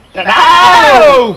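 A voice imitates a goat, giving one loud, close, drawn-out wavering bleat that rises and then trails off.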